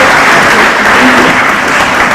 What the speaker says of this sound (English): Let's have another round of applause for the panelists,